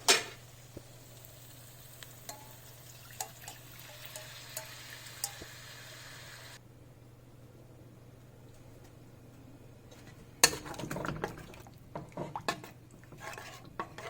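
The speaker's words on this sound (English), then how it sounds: "now I'm going to pour in the tamarind juice." Tamarind juice hits a hot pan of brinjal (eggplant) pachadi, giving a continuous quiet sizzle with small spoon-and-pan clinks, then a louder burst of hissing and clattering stirring near the end.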